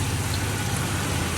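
Steady, dense heavy rain hissing continuously with a low rumble underneath, in Sisaket, Thailand, loud and close throughout with no voices.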